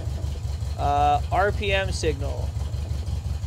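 An engine-swapped project car idles roughly, a low, pulsing throb that is loping and uneven and keeps up steadily throughout. A person talks briefly over the engine.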